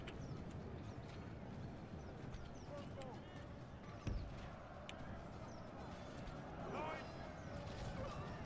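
Cavalry horses gallop across a Medieval II: Total War battlefield, a dense, continuous rumble of hoofbeats amid battle din, with people talking over it.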